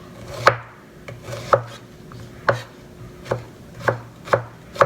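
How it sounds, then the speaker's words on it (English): Sharp knife slicing onions thinly on a board, steady separate chops roughly once per second, close and clear with no talk. "And you just want to cut your onions up just like so."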